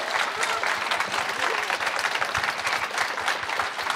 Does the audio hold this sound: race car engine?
no